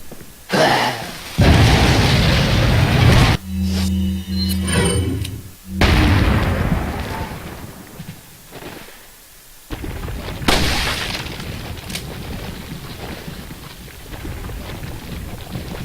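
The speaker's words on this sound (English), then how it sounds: "We're actually going to use this flame grenade because, you know, it's going to work." A flame grenade blasts in Resident Evil 4 HD with a loud, roaring burst that lingers for a few seconds. A short mechanical interlude follows, then a second, weaker whoosh that fades into crackling ambience.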